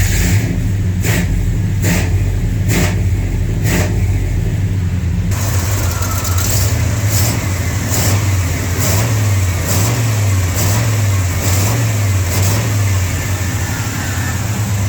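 The engine of a hoopty hot rod 4x4 with a fuel pressure drop and loss of power issues runs loud and close, holding a steady idle before revving in repeated rising and falling bursts.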